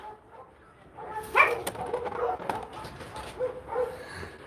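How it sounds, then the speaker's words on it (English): Dogs bark and whimper at a distance during a dangerous outdoor job, with a few scattered yelps and barks that come and go at moderate loudness. "These dogs are crazy."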